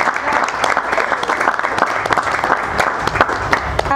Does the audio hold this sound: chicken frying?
no